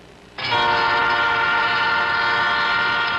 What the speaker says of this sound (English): the trains don't even slow down on their way through here